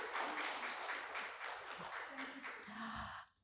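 An audience at a live cultural programme applauds loudly, with dense steady clapping that continues throughout and then cuts off abruptly.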